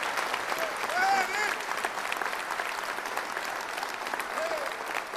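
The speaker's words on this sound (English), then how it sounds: "Let's bring him on with a round of applause." An audience at a religious gathering applauds as a student minister is brought on stage, with a sustained wash of clapping from the crowd and a few faint voices and cheers mixed in.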